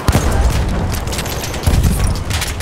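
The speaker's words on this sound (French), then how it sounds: "Une grenade pour eux." Chaotic battle noise in Battlefield 1 as a grenade goes off: a heavy explosive boom at the start and another thump later, amid continuous rattling gunfire and debris, loud and dense throughout.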